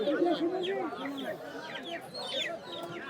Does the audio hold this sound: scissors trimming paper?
no